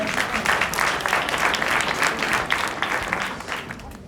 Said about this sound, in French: il mérite des applaudissements, Henri.